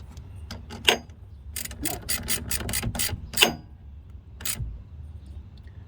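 A socket wrench with extension tightening a battery terminal nut on a Chevy truck, close ratcheting clicks in quick bursts with a few louder clanks and pauses between.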